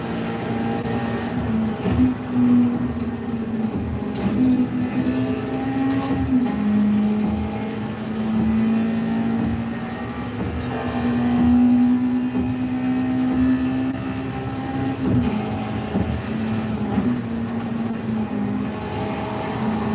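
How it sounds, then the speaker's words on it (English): A car engine in Gran Turismo 7 revs out with a droning, steady tone that sustains and shifts pitch slightly over twenty seconds, loud and continuous with no talk. "Just wanted to see what happened if you revved it out."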